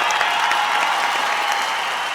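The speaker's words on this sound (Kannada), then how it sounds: "ಬರ್ಲಿ ಚಪ್ಪಾಳೆ ಬರ್ಲಿ" Studio audience of a Kannada comedy show applauding after a sketch, a steady wash of many hands clapping with a faint crowd murmur, fairly loud and unbroken.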